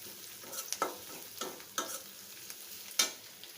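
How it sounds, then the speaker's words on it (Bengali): Onions frying and being stirred in a pan with three or four green chilies and bay leaf, sporadic scraping stirs and soft sizzling bursts, close and fairly quiet, no talking. "এখন দিয়ে দেবো আর 3-4টি কাঁচামরিচ, তেজপাতা দিয়ে ভালোভাবে পেঁয়াজের সাথে ভেজে নেব"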